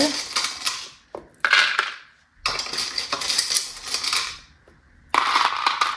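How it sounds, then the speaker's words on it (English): Small letter tiles for an oracle reading are stirred together in a bowl, giving bursts of clattering and rattling near the listener, broken by short pauses. "let's get your letters. I'm gonna give them a stir."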